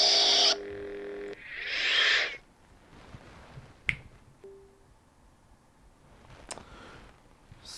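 Galaxy's Edge Luke Skywalker lightsaber toy giving a bright electronic ignition whir and buzzing hum, followed by a quiet stretch broken by a few sharp clicks and a short tone.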